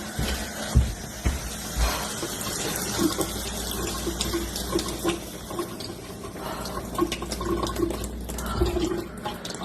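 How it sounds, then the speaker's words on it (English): Water runs steadily from a kitchen tap into a sink at night, a continuous splashing hiss with small irregular gurgles and knocks throughout, close and fairly loud, with no one speaking. "I'm just gonna shut the water off here."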